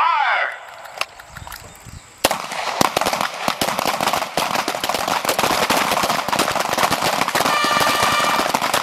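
Rapid gunfire at a shooting range stage, a dense stream of sharp cracks from multiple shooters, loud and close, running nearly continuously after a brief lull.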